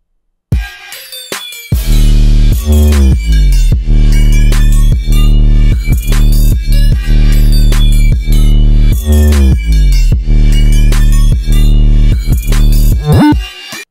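A loud, distorted 808 bass pattern with gliding pitch slides between notes, driven by a steady beat with crisp hi-hats, playing continuously without any voices.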